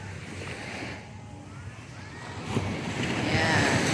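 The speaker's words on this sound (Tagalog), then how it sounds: "Medyo malakas ang alon ngayon." Strong ocean waves wash in at Lazarus Island under an overcast sky, a steady broadband roar that swells louder near the end, with wind buffeting the microphone and faint voices in the background.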